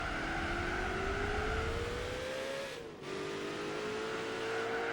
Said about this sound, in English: I'm pretty sure that's not the original engine sound of that TVR